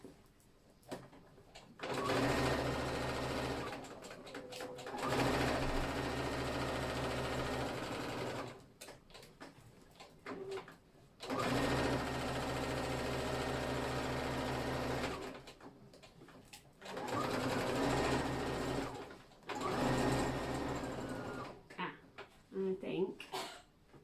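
A sewing machine stitches denim jeans in three long runs, with pauses between them. It whirs steadily and sits close, and a person talks at times between the bursts.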